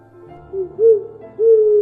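An owl hooting at dusk near a house, three soft low hoots in an irregular rhythm, close and clear against a quiet background with no voices.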